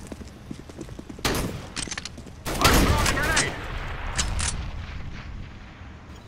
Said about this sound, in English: Fucking shotguns.